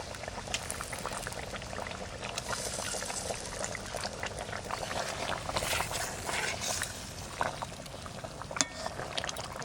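Cumin and potato curry simmering and bubbling steadily in a pot as fish pieces are added, a continuous close hiss of boiling liquid with small splashes.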